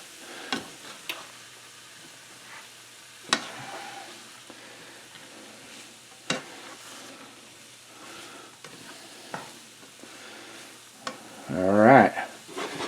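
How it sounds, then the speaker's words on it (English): A spoon or spatula stirs fried rice in a pan on a stovetop, giving soft scraping and tapping strokes, quiet sizzling, and a louder clatter near the end, with no speech. "I'm just going to stir it up here"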